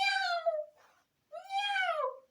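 A person imitates a cat with two drawn-out falling meows separated by a short pause, close and clear with no other sounds.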